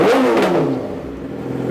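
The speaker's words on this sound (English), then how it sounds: "Give her some revs. She likes to pop." A 2008 Yamaha R6 motorcycle engine revs briefly and loudly up close, then drops back toward idle.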